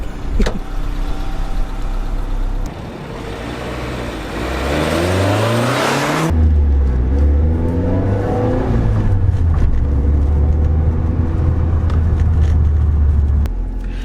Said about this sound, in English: And actually I want to go take it for a spin, so let's head out.